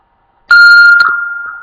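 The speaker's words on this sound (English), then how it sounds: "Timer went out." A loud electronic timer alarm goes off abruptly at the end of a countdown before an online class, a sharp sustained beeping tone that rings on and slowly fades.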